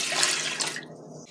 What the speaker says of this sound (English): right now we need 280 ml of water and pour it in